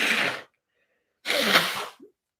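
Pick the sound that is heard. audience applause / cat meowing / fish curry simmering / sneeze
sneeze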